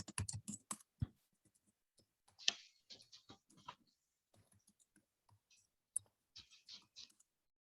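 Keys clatter on a computer keyboard in quick irregular bursts of clicks, close and fairly faint, with pauses between runs of typing and no talk.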